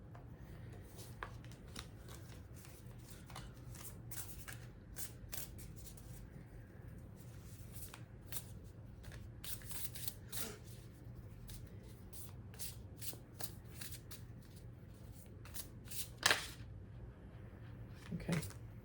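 Oracle cards shuffled at a steady, soft pace through a reading, with scattered quick riffles and flicks over a low background hum, a slightly louder snap near the end.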